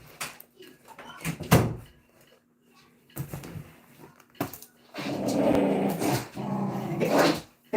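Dog growling during rough play, heard in short bursts with gaps of quiet, followed by a longer stretch of louder growling and scuffling noise.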